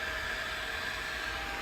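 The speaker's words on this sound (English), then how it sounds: "this is my blow dryer" A hair blow dryer fitted with a diffuser attachment runs steadily and loudly on its own, a continuous airy whoosh with a faint motor whine throughout.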